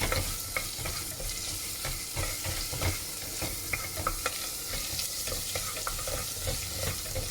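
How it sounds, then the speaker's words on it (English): Ginger garlic paste sautés in a pan for veg biryani, a continuous close sizzle with frequent light stirring scrapes throughout and no speech. "we need to add the ginger and garlic paste, and saute it"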